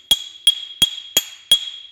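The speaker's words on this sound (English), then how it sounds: "I'm hammering off to the side of the dolly" Five sharp metallic hammer strikes ring out at a steady pace on a dented steel body panel of a 1992 Chevy OBS truck, hammered off the dolly, each blow close and bright with a short ringing decay.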